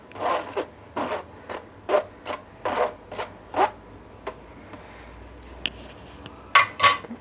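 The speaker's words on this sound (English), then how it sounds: "Just mix it with the spoon." A spoon stirring cake batter of flour, baking soda, cinnamon powder and salt in a bowl, giving repeated close scraping and clinking strokes in an uneven rhythm, with a short pause before a few final taps.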